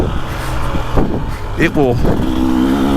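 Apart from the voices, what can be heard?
2025 KTM 300XCW motorcycle engine accelerating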